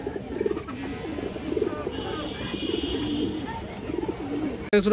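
Black Muslodom pigeons, an old-line breed, coo softly and continuously through the whole stretch, with a low, steady murmur of birds close by and a brief louder rustle at the very end.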